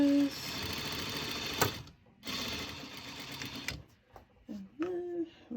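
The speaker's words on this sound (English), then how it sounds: "Okay, so I'm just gonna sew down the line where that was" A sewing machine stitches down a seam on a fitted face mask with a filter pocket, running in two steady whirring bursts separated by a short pause, followed by quieter handling sounds and brief faint noises.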